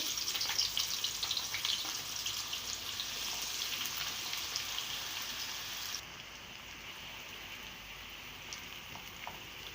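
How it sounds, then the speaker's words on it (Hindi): Onions frying in hot oil in a pan, giving a continuous crackling sizzle like light rain that stays fairly quiet and softens slightly toward the end. "देखिए ऑयल हमारा गर्म हो चुका है। अब इसमें प्याज डाल देंगे।"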